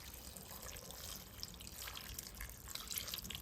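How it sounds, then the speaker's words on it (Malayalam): Water is poured into a cooking pot holding crushed garlic and green chillies, giving a soft, continuous trickling splash that stays faint and steady throughout with no talk. "ആവശ്യത്തിന് വെള്ളം ഒഴിച്ചു കൊടുക്കണം"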